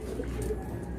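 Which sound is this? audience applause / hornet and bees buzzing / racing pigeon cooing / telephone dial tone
racing pigeon cooing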